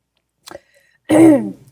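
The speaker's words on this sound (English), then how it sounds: "I wish I could quit clearing my throat." A man clears his throat up close: a brief rasp, then a pause and a louder, longer guttural clearing with a voiced rumble that trails off.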